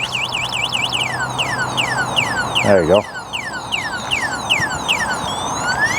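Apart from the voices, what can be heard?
electric bike anti-theft alarm going off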